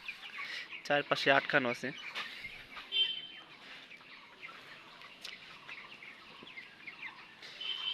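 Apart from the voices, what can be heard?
chickens clucking in an enclosed shed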